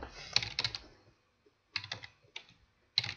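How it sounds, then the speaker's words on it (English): Keys tapped on a computer keyboard while a password is entered, a few quick bursts of crisp clicking separated by brief pauses, close and clear with no talking. "we type in a password, we type in an email address"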